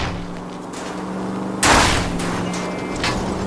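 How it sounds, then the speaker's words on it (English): Single loud gunshot fired at a car's tires during a car chase in the video game L.A. Noire, a sharp blast over a steady engine rumble. "I'll try to shoot out his tires."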